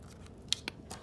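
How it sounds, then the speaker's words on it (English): Scissors snipping copper tape give a few sharp, quiet clicks and crisp cuts in quick succession, close up, with no talking. "cut it with a pair of scissors"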